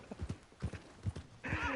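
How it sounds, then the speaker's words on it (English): A spooked horse in Red Dead Redemption 2 clip-clops with quick, evenly spaced hoof beats, then breaks into a loud, shrill whinny at the end. "Why's my horse all spooked?"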